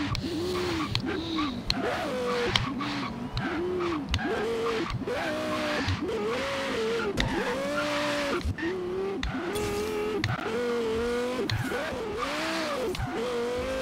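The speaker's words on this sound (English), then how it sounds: "The Lexus LFA is wheeling." A Lexus LFA driving in a video game, its engine revving in repeated rising and falling surges, loud and close with tire squeal, as the car repeatedly pops wheelies.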